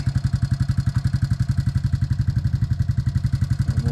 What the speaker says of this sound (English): Let my four-wheeler warm up here a bit